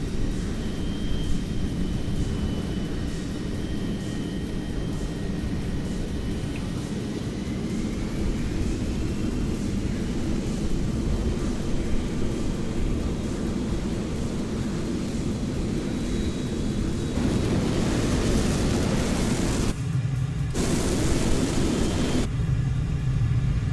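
An F-14 Tomcat in Microsoft Flight Simulator rolls down the runway for takeoff with a continuous engine rumble and a slowly rising whine, then a few abrupt louder surges near the end.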